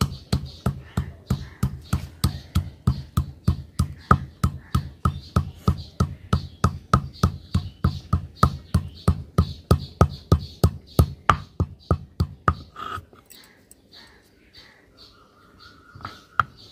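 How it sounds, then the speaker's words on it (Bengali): Cardamom and cinnamon being pounded on a grinding stone, a steady rhythmic run of sharp close knocks that stops abruptly, followed by faint chirps and background sounds. "এখন বেটে নেব এলাচ দারচিনি"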